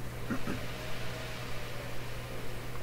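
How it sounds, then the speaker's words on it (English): A video card cooling fan whirs with a steady airy hum and a low tonal drone, speeding up and down, fairly quiet, with no voices. "It's actually the fan on the video card going up and down."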